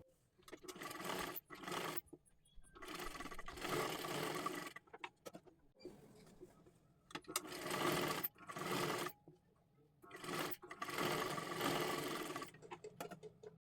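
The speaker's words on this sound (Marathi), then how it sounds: "आता इथे आपल्याला शिलाई करून घ्यायचं आहे" A sewing machine stitches a lining onto saree fabric for a lehenga-style dress, running in several bursts of steady whirring with short pauses between them, close by and without talk.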